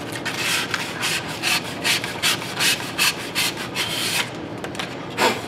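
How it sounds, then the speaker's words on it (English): Sandpaper held at an angle rubbing around the edge of a thermoformed plastic pet food tray, a steady series of close, rhythmic rasping strokes about twice a second. "Hold the sandpaper at an angle, work my way around."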